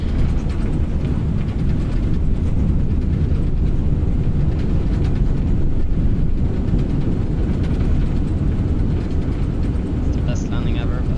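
Thrust reversers on an airliner after landing in a flight simulator game, a loud, steady broadband roar of engine noise sustained throughout with a voice talking over it.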